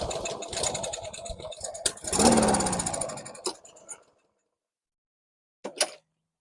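A customer's lawn mower engine, choked and primed, with bad fuel, catches and runs raggedly for about four seconds, then dies into silence before one brief cough.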